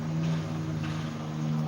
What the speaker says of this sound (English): He's got like this really, really loud Jeep and he needs to fix his exhaust.